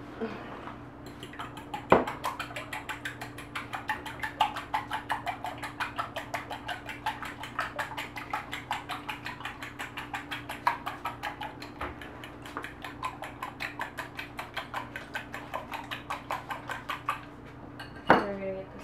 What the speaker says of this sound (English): And then we're going to get a whisk or a fork.